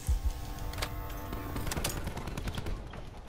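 Gunfire in a first-person shooter video game, several sharp shots in quick succession, close and loud over a busy battle background, with no talking.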